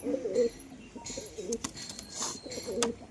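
Domestic pigeons cooing close by in a loft, several soft throaty coos in short rolling bursts, mixed with light rustling and a faint voice in the background.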